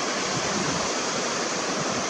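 Wind blowing outdoors at night, a loud, steady broadband rush buffeting the microphone, with no voices.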